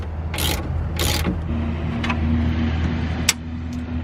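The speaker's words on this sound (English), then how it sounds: "all I need for that is a Craftsman ratchet in the 13mm size" A Craftsman 13mm ratchet works on a headlight bracket of a 2000 Chevy Cavalier, giving several short, sharp clicking bursts spaced irregularly over a low steady background hum.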